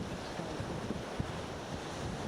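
Steady wind buffets the microphone on the Bornholm coast at Kulletippen, a broad continuous rush with waves washing underneath and a few low thumps of gusts.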